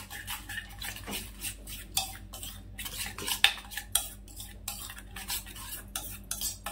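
A spoon scrapes and clatters rhythmically against a pan as tandoori cauliflower is tossed with oil, with quick repeated strokes, close and clear with no talking.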